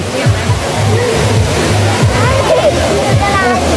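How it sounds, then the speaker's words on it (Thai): At Wang Kan Lueang waterfall in Lopburi, rushing water and splashing mix with a busy crowd of people playing in the water, with voices and chatter throughout. "มาเล่นน้ำตกที่น้ำตกบางกาเหลือง"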